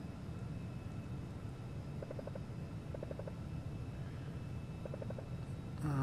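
The jet engines of a Carenado Falcon 50EX in the Prepar3D flight simulator hold a steady low drone, with short bursts of rapid cockpit clicking rising above it.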